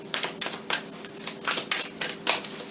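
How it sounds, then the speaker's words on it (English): A deck of tarot cards is riffled and shuffled repeatedly up close, a series of quick papery rattling bursts. "Let's do a couple more shuffles just to make sure they haven't got anything else to say."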